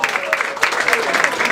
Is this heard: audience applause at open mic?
yes